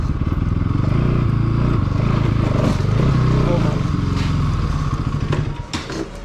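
A motorcycle engine runs loudly and steadily close by as the bike is moved inside, with clattering and scraping near the end as it settles.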